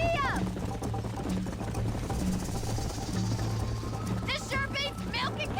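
Horse hooves galloping in the video game Red Dead Redemption, a rapid continuous drumming of hoofbeats under game music and talking voices, with a horse whinny near the start.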